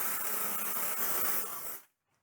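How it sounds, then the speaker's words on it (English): An aerosol hair root retouch spray hissing in one steady continuous burst close to the mic for nearly two seconds, then cutting off abruptly into near silence. "I have like this root retouch spray, and you can see if we just spray"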